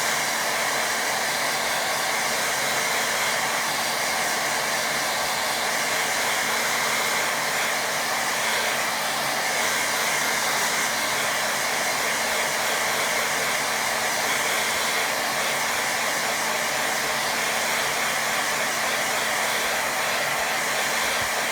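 A hair dryer blows loudly and steadily at close range for the whole stretch, drying a watercolour painting of a windmill, with a constant whirring hum that never changes pitch or stops.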